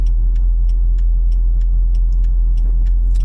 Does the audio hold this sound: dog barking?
no